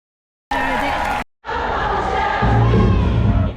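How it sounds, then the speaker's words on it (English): A crowd outside a courthouse erupts in loud cheering and shouting, a brief burst, a short gap, then sustained roaring that swells near the end. "the crowd is going wild as he walks out of this courthouse"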